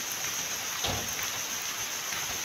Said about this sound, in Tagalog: Ulan na, umuulan na.